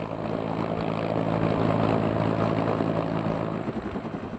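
An AH-1 Cobra military helicopter flies at an army aviation unit's night rocket firing exercise, its engine and rotor giving a steady, droning hum throughout, fairly loud and alone, with no talk.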